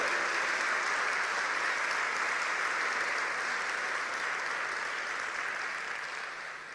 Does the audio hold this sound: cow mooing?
no